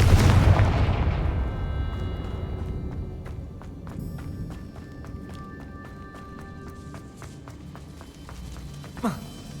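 A Confringo fire spell blasts in Hogwarts Legacy, a loud burst at the start that booms and rumbles, then decays into a long ringing tail with scattered clicks and a small pop near the end.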